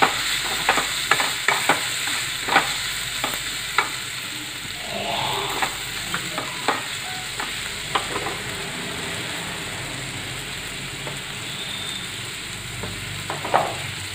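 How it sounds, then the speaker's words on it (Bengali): Spices fry in a pan for samosa filling, a steady close sizzle broken by repeated scrapes and taps of a spatula as the mixture is stirred, with no talking. "হলুদ গুঁড়ো, দেব একটু জিরের গুঁড়ো, দিয়ে আমি আবার নাড়াচাড়া করে নেব।"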